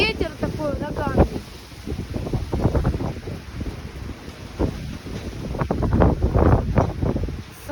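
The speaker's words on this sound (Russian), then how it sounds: "Смотрите, еще и ветер такой ураганный." Hurricane-force wind in a snowstorm beside a stormy sea at Yalta, loud gusting roar buffeting the microphone in surges, with a short burst of speech near the start.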